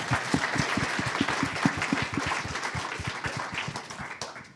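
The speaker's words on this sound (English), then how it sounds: "Please join me with a round of applause for Michael Lee" An audience claps steadily for panelist Michael Lee at a redistricting discussion event, a dense, sustained round of applause from a roomful of people that thins out toward the end.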